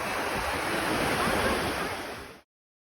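Ocean surf washes steadily onto a beach in a dense, close hiss of breaking water, then cuts off abruptly after about two and a half seconds.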